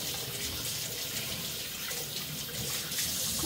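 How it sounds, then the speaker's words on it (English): Tap water runs steadily into a sink as parts of a kettle are rinsed, a continuous hissing splash heard close up with no talk. "And I'm just gonna rinse these, and I'm gonna let these soak in some clean water."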